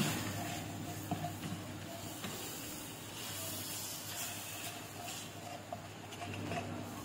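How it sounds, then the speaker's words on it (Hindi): Maida flour frying in butter in a pan gives a steady, soft sizzle and hiss with faint patter and occasional small ticks, close and quiet, with no talking. "अब इसके अंदर हम डालेंगे 3 खाने के चम्मच मैदा और इसे अच्छी तरह से फ्राई करेंगे।"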